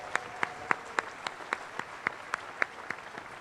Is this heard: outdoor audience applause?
yes